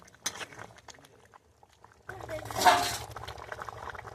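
Cooked papaya and potato chicken curry, village style, is poured out of the pot with a wet, bubbling slosh that swells and then fades, close by, after a short burst of clinking at the start.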